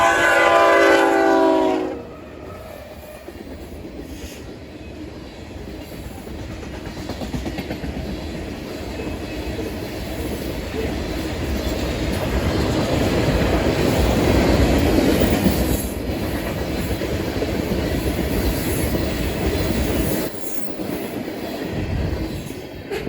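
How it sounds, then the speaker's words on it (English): A westbound BNSF ballast train rolls past on the Transcon toward Los Angeles, with a short horn blast up front, then a long, steady rumble and clatter of wagons and wheels that swells and fades. "this ballast train that was heading west towards Los Angeles"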